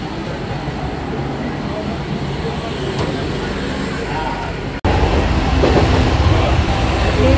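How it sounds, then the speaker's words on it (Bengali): A Kalyani local train pulls into Bidhannagar station, a loud continuous rumble of wheels and carriages that grows heavier partway through, with station noise around it. "আপনার এখন আসছে কল্যাণী লোকাল 9:27"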